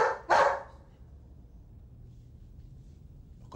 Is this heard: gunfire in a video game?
no